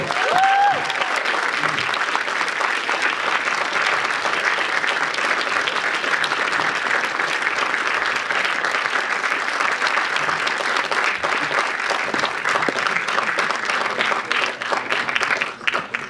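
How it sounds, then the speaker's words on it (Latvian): An audience applauds steadily to welcome film producer Boris Teterev at a pre-screening presentation of a film premiere, with dense, sustained clapping that stays loud throughout and tapers slightly at the end. "ar aplausiem lūdzu sagaidīsim viņu"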